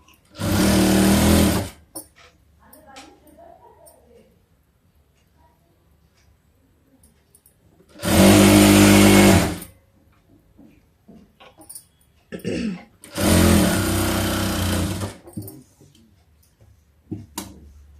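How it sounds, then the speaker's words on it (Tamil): A sewing machine stitches a sleeve in three separate bursts, loud and close, each one to two seconds long, with quiet pauses in between. "இதுவும் அதே மாதிரி தான் இப்போ ஸ்டிச் பண்ணி காட்ட போகிறேன்"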